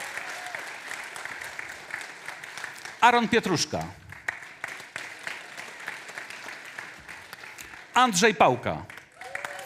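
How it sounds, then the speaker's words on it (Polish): An audience at a local-government election convention applauds the candidates, steady clapping running beneath an announcer's voice as he reads out names, with two louder swells of cheering and clapping. "I zapraszam. I brawa."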